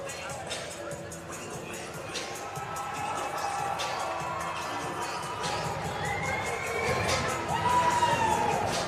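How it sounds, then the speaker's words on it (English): Crowd at a Caged Aggression cage-fighting event cheers and shouts as a fighter walks to the cage, a dense roar of voices that swells toward the end, with a commentator talking over it. "And you can feel the crowd's atmosphere as Neal walks down the aisle."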